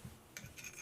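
Short abrasive rasp of a KME knife sharpener stone drawn along a knife edge, a quick near scrape over a soft low background.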